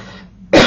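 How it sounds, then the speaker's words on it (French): A single sharp cough bursts out loud and close after a short lull with faint background murmur, set off by incense smoke. "c'est surtout l'encens hein, qui me fait tousser"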